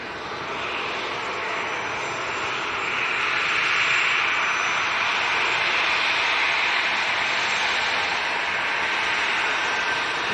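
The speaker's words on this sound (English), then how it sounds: "next departure coming up, 737-300 of Jet 2" A Jet2 Boeing 737-300 jet departing Leeds Bradford Airport, a loud, steady broadband engine roar that holds strong and swells slightly throughout.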